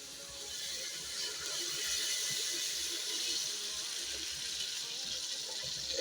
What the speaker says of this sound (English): So next we're going to add water.